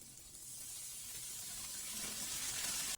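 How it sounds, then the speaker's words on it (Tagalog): Steady, bright sizzle of ingredients being sautéed in a pan for paksiw na bangus (milkfish stewed in vinegar), a continuous hiss that builds slightly toward the end, with no talking. "Igisa lang natin yan ulit ng ilang minuto"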